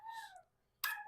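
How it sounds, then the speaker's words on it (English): A pet dog hollers and howls in a home kitchen during cooking, giving two brief, faint wavering howls separated by a short gap. "That's my dog hollering."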